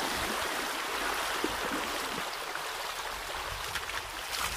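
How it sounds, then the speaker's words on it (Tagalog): A strong river current rushes steadily past, a dense broadband roar of water that stays loud and close throughout without pause, while a few small splashes surface in the flow. "Ang lakas ng agos ah."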